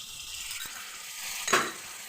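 Small fish with mustard paste and oil fry and are stirred in a pan, a steady soft sizzle with a brief scrape of stirring partway through, no talk.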